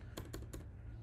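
A few quick, faint keystrokes on a computer keyboard, three short taps close by in a quiet room while a command is entered during an Appium install on a computer.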